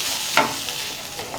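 A spoon stirs mashed potato filling for aloo paratha, mixed with fresh coriander leaves, giving a brief, soft, close scraping and squishing with one slightly louder stroke.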